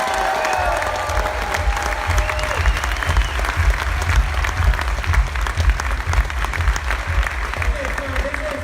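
A large audience at a seminar applauds steadily, a dense wash of clapping that holds at full strength throughout, with a few voices and whoops mixed in.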